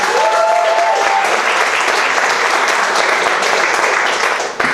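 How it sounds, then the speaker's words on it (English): Steady, full applause from an audience at a campaign kickoff speech for a Senate run in Omaha, dense and loud throughout with a faint voice briefly audible early on, tapering slightly at the very end. "Let's give them a round of applause."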